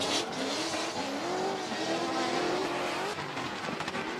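Drift cars race into turn one at a drift series event, with a roaring engine and sustained tire squeal sweeping up and down in pitch, loud and continuous.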